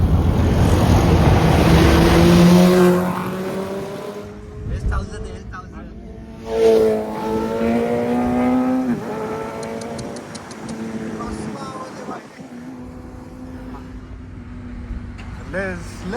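Loud cars speed past on a roadside, a broad rushing roar strongest in the first few seconds, with people talking over it throughout.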